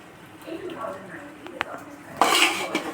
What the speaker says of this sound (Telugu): వేసుకున్న తర్వాత ఒకసారి అటు ఇటు బాగా కలిపేసుకుందాం